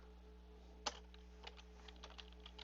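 Quiet clicks of keys on a computer keyboard as a date is entered, one sharp tap followed by a loose run of lighter keystrokes against a steady low hum.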